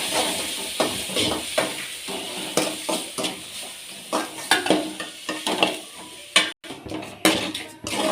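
Green chillies and crushed onion sautéing in hot oil in a pan for river crab gravy: a steady close sizzle and hiss with repeated metal spoon stirs and clinks against the pot, no voices.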